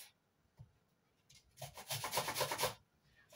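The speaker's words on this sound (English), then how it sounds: "So I'm grating" Half an onion rubbed against a grater for burger meat, a rasping scrape of roughly a second, preceded by a few faint taps and brief handling noises.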